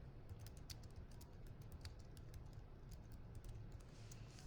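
Soft, rapid key clicks from a computer keyboard as a name is typed out, a quiet, irregular patter of taps heard alone at low volume.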